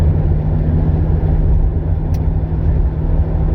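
A Triumph Stag drives along, heard as a steady low engine rumble and road noise from inside the car, continuous and fairly loud with no talk.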